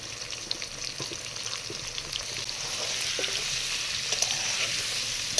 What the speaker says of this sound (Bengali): কড়াইতে সাদা তেল দিয়ে দিচ্ছি দিয়ে আলুগুলো দিয়ে দেবো